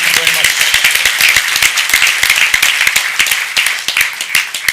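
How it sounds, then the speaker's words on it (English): Audience applause at an employee ownership conference, a loud, sustained round of dense clapping close by that carries evenly to the end, with a brief voice at the start. "Big round of applause to all of them."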